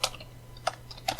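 Three short bursts of clicks on a computer keyboard while numbers are typed into a line-number column when tracing a Python program, quiet and close with a steady low hum underneath.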